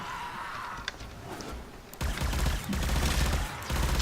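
Rapid bursts from the Supra Vandal rifle in the Warframe video game, a dense, loud crackle of fast automatic fire that kicks in sharply partway through and continues nearly unbroken, with a quieter stretch of game ambience before it.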